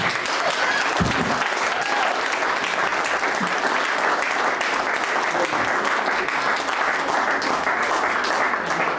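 Sustained applause from a wrestling crowd at a memorial show, steady and dense for the whole stretch, loud and close with no voices rising above it.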